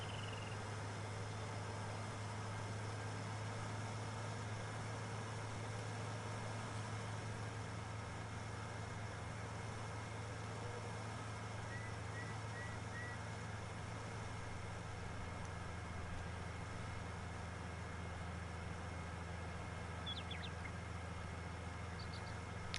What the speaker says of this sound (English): I still can't believe I freaking leased a tractor.